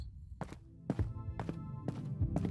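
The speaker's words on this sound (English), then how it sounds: "I can hear their footsteps." Footsteps approach on a village path, a handful of dull, evenly spaced thuds growing slightly firmer, close by with no talk over them.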